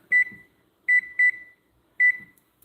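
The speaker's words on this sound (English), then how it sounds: "Let me put a little timer so I don't forget." A kitchen timer gives four short electronic beeps as it is set, with a single, then a quick double, then one more, close and clear in an otherwise quiet room.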